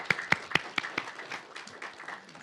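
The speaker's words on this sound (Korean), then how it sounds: "저희가 박수로 환영해 드리겠습니다" A church congregation at a Korean Sunday service claps in welcome, several sharp bursts at first that soften into a scattered patter of hands, moderately distant in a hall.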